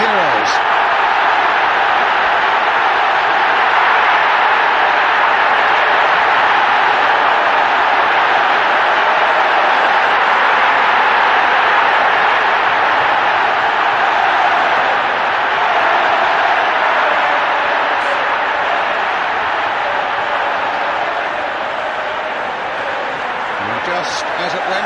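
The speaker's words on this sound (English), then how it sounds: "The crowd gets a sight of their heroes." Large stadium crowd at the 1970 FA Cup final replay at Old Trafford roars steadily as the teams appear, a dense continuous wall of cheering and noise lasting throughout, loud and unbroken.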